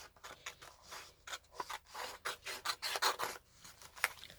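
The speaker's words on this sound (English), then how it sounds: "So you just cut around your sleeve head like that," Scissors snip through thin Georgette fabric, cutting around a sleeve head for a stand-collar top: a close, quiet series of short rasping cuts in an irregular rhythm.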